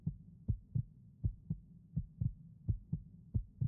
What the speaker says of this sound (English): Heartbeat.